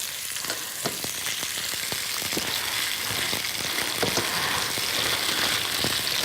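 Ginger and green onions sizzle hard in a hot restaurant wok, a dense steady frying hiss broken by repeated sharp scrapes and clacks of a utensil stirring against the metal.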